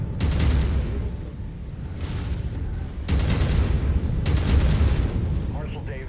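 Heavy booming missile blasts in a sci-fi combat video game, two broad rumbling bursts about three seconds apart, each swelling loudly then trailing into a dense, noisy roar.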